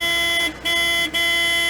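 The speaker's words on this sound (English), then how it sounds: "All motorized equipment should have a warning horn for forward movement," A loud, steady horn sounds three times in quick succession, with brief gaps between the blasts.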